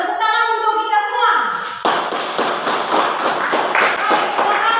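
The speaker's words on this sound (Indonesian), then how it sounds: "Dan tepuk tangan untuk kita semua." Children in an Indonesian classroom break into a burst of clapping after a teacher speaks, the claps rapid and uneven, close and fairly loud, with young voices mixed in.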